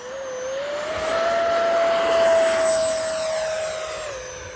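A Freewing 70mm F9F-5 Panther RC jet flies overhead, its steady turbine-like whine holding a high tone that rises slightly as the model passes closer, then eases off, loud and continuous with no talk.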